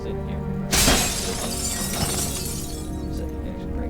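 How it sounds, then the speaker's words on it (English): A pane shatters in the video game Dishonored 2, a loud, sudden crash followed by a spray of tinkling shards that fades out under a steady background of game ambience. "Break glass in this game."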